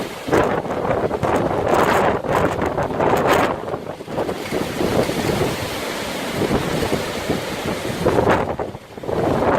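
Hurricane Ophelia's wind roars steadily outdoors in Ireland, battering the microphone with loud, continuous rumbling gusts that barely ease for the whole stretch.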